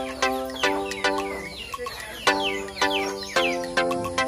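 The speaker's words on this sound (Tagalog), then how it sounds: "Maraming mga manok. Maraming manok na alaga nila mama o." Chickens on a family farm cluck repeatedly in short bursts, a steady run of close, clear calls with a few chirps between them.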